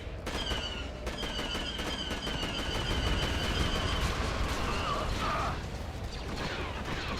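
Blaster pistol shots in Star Wars Battlefront II (2005), a rapid string of sharp zapping laser bolts fired steadily over several seconds amid background battle noise, loud and close.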